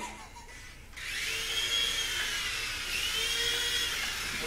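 Small indoor toy helicopter rotor whirring indoors, a high steady whine that starts abruptly after a second and holds loud and close with slight pitch wavers.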